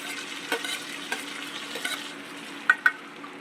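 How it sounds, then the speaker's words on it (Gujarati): Chilli is stir-fried in a pan for veg hakka noodles, giving a soft sizzle with a few scattered stirring scrapes and two sharp clinks near the end, close and quiet with no talking. "તો હવે આપણે આ તીખી મરચી એડ કરી દઈશું"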